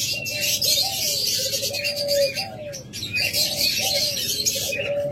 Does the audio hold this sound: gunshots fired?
no